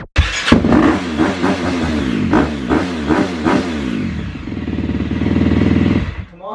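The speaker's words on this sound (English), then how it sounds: "we're gonna wake him up with a dirt bike" Dirt bike engine revving loud and close, rising through several sharp throttle blips before settling into a sustained rough roar, with no talking.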